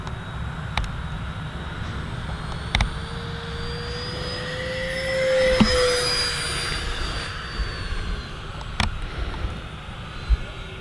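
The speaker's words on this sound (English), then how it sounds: "I want you guys to hear this jet. It actually sounds really good." An E-flite Habu STS radio-controlled electric ducted-fan jet whines past overhead, its high turbine-like hiss rising in pitch and loudness as it approaches, peaking mid-pass, then receding, over outdoor wind noise.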